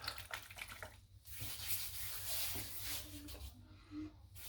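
Soaking water is poured off a shaving soap, giving a soft, close trickle and splash of running liquid that rises and ebbs over a few seconds, quiet and without talk.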